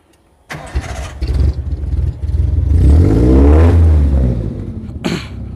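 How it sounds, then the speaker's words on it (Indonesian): Suzuki Vitara 4x4 with an aftermarket AMG-style muffler cranks and fires up, then revs in a rising, sustained roar that eases off before a final sharp blip, loud and close with no talking. "sekarang tak cek mesin. Jadi tak lihat knalpotnya mas ya"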